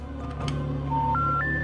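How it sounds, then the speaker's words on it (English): Touch-tone landline phone dialing: a few steady DTMF key tones step upward in quick succession, clear and close, with a short muffled fumble before them. "it's like a landline phone that's touch tone"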